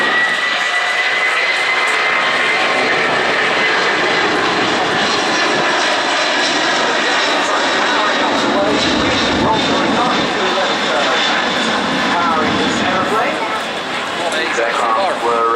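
An RAF aircraft in original RAF colours flies over the RIAT Fairford air show in 2013, a broad sustained engine roar over the crowd, with a commentator talking over it throughout.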